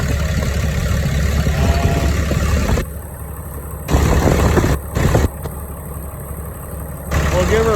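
Ford-era 6.7 Cummins diesel engine fitted with a new S472 turbo idling, a steady low rumble with turbo whistle throughout, with someone talking over it in places.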